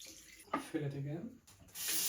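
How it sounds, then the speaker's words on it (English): Tap water fills a film developing tank for rinsing, a hissing pour that starts, breaks off, then surges again at the end, with a voice speaking over the middle. "so we are going to fill it up with water"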